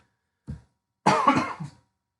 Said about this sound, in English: A little bit of cough there.